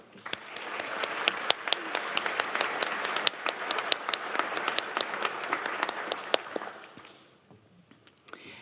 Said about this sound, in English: Let's take a moment to show our appreciation with a round of applause.